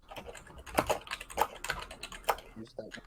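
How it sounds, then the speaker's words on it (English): Computer keyboard typing picked up over an open microphone during a group call, a run of quick irregular clicks and clacks with voices talking faintly underneath. "We can hear you typing, man."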